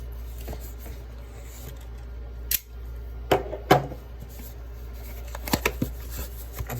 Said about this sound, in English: Let's get him out of the box and take a closer look.